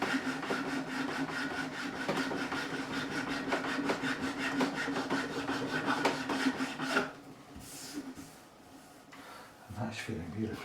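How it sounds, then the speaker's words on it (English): A file rasps steadily along the wooden neck of a Warwick Corvette bass guitar in continuous close strokes for about seven seconds, then stops and leaves a quieter stretch with a few soft handling sounds. "I've probably got to take a file to here."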